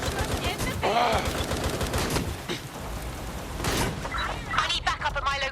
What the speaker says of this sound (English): I'm hearing gunfire.